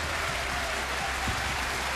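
A snooker crowd applauds with dense, steady clapping that fills the whole moment evenly, a continuous wash of many hands at moderate volume.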